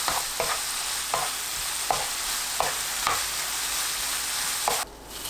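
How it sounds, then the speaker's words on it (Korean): Sauce bubbling and sizzling in a pan as shishito peppers are stirred through it, with steady frying hiss and several distinct spatula scrapes spaced through the clip; no voices. "양념이 끓으면 까리고추와 섞어가면서 1분 30초 볶아주세요."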